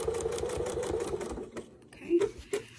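A sewing machine quilting along a Westalee continuous border loop template stitches in a quick, even run, then stops, leaving a few soft clicks and handling sounds.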